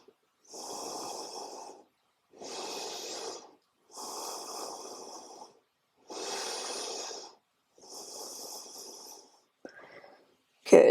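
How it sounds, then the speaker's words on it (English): Slow, deep yoga breaths during cobra pose (Bhujangasana) come in five even, close breathy swells about a second and a half each, separated by silence, followed by a short rustle at the end. "Take a few breaths here."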